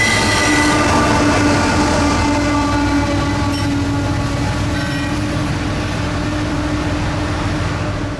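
A Norfolk Southern manifest freight train rolls past through snow on the Christiansburg District, a loud continuous rumble of railcars with steady wheel and rail noise and a horn-like tone throughout, close by.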